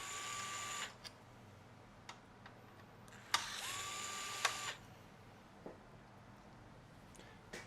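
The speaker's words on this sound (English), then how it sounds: "We're going to go ahead and remove the 4 machine screws holding the front panel in place." Small machine screws being backed out of the front panel of an Xbox One S console during a repair, heard as a few sparse, close clicks and light scraping ticks over a quiet background, with two brief whirring bursts of a screwdriver.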